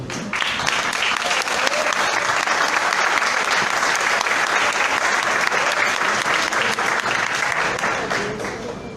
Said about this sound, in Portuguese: Coloca a sua Bíblia na cadeira e aplauda o Senhor.